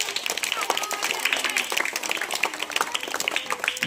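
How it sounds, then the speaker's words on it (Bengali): Applause and clapping at a children's birthday gift-giving, steady and fairly loud throughout, with voices talking over the clapping. "হাততালি সবাই জোরে জোরে।"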